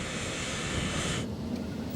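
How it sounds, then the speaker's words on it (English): Concorde supersonic jet airliner flying over the mid-Atlantic, a steady broadband roar of engines that holds loud and unbroken, then drops in its upper hiss partway through while a low rumble continues. "Concorde crosses into American airspace over the mid-Atlantic."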